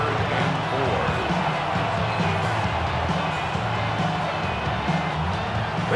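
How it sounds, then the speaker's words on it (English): A football stadium crowd at an NFL playoff game between the Rams and Bears roars steadily as play reaches third down, a dense, continuous wall of cheering and noise with announcer talk running over it throughout. "This crowd into it now as we get to 3rd down."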